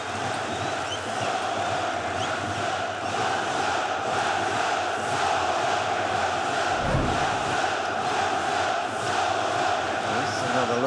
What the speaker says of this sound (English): The crowd still reacting.